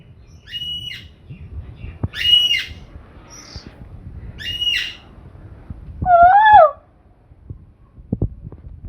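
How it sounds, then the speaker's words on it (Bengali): An Asian koel calls in a series of short, clear, rising notes, and a lower whistled call comes later. The calls are spaced apart over quiet outdoor background noise. "কোকিলের সাথে ভেঙালে না, কোকিলও চিল্লাবে"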